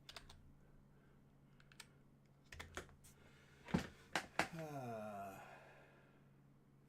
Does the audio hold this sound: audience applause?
no